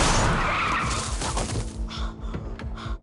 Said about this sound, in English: Emilio runs him over with the car.